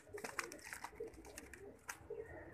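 Soft, low pigeon coos repeat faintly at a distance over quiet background noise.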